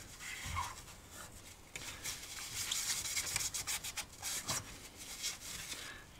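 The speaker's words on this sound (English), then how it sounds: "Just wiping away all of the old compound." Old thermal compound being wiped off a PC CPU cooler, close-up rubbing and scrubbing strokes, soft and steady with brief louder swipes, no voices.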